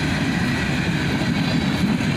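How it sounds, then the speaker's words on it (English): The last cars of a freight train roll past, including covered hoppers and bulkhead flat cars, producing a loud, steady rumble and clatter of wheels on rail, close and continuous, with no voices. "And finally, the bottom of the train goes by."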